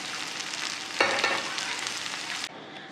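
Onion and garlic sauté in a pan with a continuous close sizzle, a louder burst of frying about a second in as more goes into the pan, then the hiss cuts down near the end.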